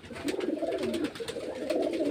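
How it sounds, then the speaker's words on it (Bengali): Murshidabad Giribaz-line pigeons coo steadily at close range in a seller's flock, their low throaty rolls overlapping in soft waves with no talking over them. "এই যে সব মুর্শিদাবাদের গিরিবাজ লাইনের পায়রা।"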